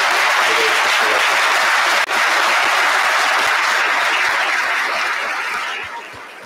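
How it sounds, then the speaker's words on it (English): Ceremony audience at a medical school white coat ceremony gives a loud, dense round of applause, sustained steadily and tapering off toward the end, with no talk over it. "please just give all of those who are at home and watching you a round of applause and a great big thank you"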